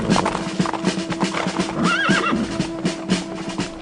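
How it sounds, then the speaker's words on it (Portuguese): Men approach on horseback with a steady clip-clop of hooves, and one loud, close horse neighs and whinnies partway through over the rhythmic hoofbeats. "vejo alguns homens chegando a cavalo"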